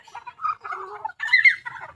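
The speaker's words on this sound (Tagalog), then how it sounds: "Papakain tayo mga dyan, ating mga manok mga dyan." White Leghorn chickens cluck and murmur at feeding time, close by in a short busy run of overlapping calls with a louder, higher squawk near the middle.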